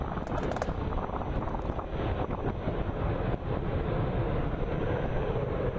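A Sukhoi Su-30 MKI twin-engine fighter jet roars overhead during an Indian Air Force flight, a loud, continuous broadband rush that holds steady for several seconds with no talk.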